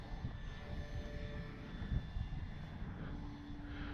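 An Arrows RC Bigfoot PNP model airplane flies with a steady, droning motor whine that holds at an even level and shifts pitch slightly near the end, with no talking.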